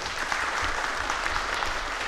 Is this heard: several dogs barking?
no